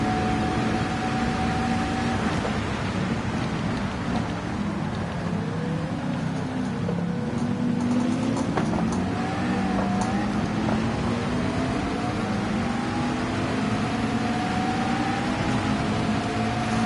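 McLaren race cars in Gran Turismo 7 at the Red Bull Ring in Austria, a continuous engine roar whose pitch sweeps up and down with gear changes, steady and loud throughout.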